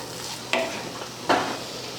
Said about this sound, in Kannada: ನಾ ಈಗ ಅನ್ನ ಹಾಕಿ ಕಲಿಸ್ಕೊತೀನಿ ನೋಡ್ರಿ.